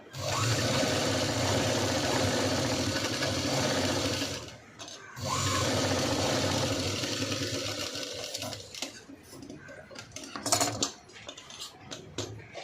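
A sewing machine stitches the front of a princess-cut V-neck blouse in two long steady runs split by a short pause, then slows to scattered clicks and light mechanical taps near the end.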